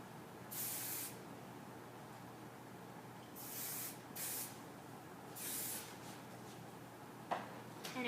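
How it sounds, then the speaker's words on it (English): Stay Strong hairspray is sprayed onto a styled hairdo in several separate bursts of bright hiss, each about half a second to a second long, close to the microphone with quiet gaps between them. "To finish this look, we're going to spray it with Stay Strong hairspray"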